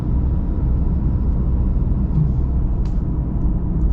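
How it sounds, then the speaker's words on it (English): Steady, loud tire and road rumble fills the cabin of a 2026 Ram AEV Prospector XL pickup carrying a camper on its bed as it drives along, a continuous low drone with no breaks. "I'm hearing the tires, I'm not hearing that camper in the back."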